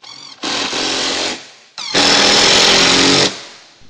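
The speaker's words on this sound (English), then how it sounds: "I'll have to complete it with my hammer to get it to bend over well" Sheet metal in a roof valley is being struck and worked into shape, giving two loud, harsh, sustained bursts of metallic clatter close by, separated by a short pause.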